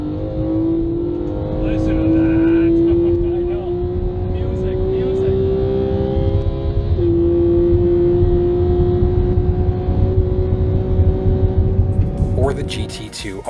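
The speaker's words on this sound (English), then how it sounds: "You're on board with me in the 911 GT3 at Canadian Tire Motorsports Park" Onboard a Porsche 911 GT3 at Canadian Tire Motorsports Park, the engine howls loudly at high revs with a steady rising tone, a brief dip at a gear change, and continuous road and wind rumble beneath.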